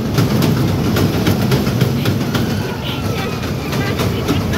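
Toy train ride at a night fair at a children's festival, heard as a steady rumbling clatter with rhythmic clicking and a busy crowd murmur around it.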